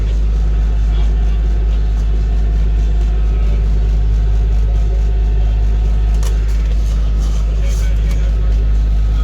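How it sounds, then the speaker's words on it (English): A sailboat's motor drones loud and continuous as the boat travels the channel toward IJmuiden off the Dutch coast, a deep steady hum filling the whole stretch with no talk. "we're on the motor in the channel towards IJmuiden"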